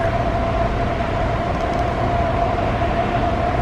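A continuous low rumble of a passenger train in motion heard from inside the cafe car, with a steady tonal hum over the noise and no talking.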